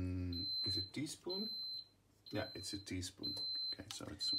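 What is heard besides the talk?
waffle maker ready beep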